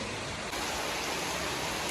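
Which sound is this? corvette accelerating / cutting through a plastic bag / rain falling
rain falling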